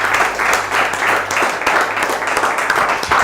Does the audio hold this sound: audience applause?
yes